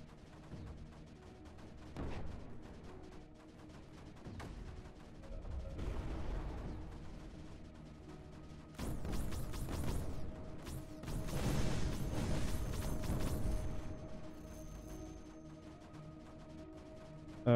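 Mortar batteries firing in the strategy video game Creeper World 4, a steady mechanical barrage of muffled thumps and crackling impacts that swells louder in dense clustered bursts over a humming background.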